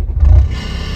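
A diesel car engine turns over and catches, swelling into a loud low rumble that settles into a steady nearby idle.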